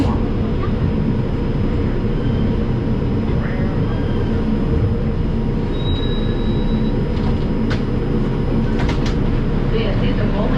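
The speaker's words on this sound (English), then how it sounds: "This is a Bowling Green bound 5 express train." An R142 subway car on a 5 express train toward Bowling Green rumbles steadily underway, with continuous loud low track and motor noise and faint high squeals, heard from on board.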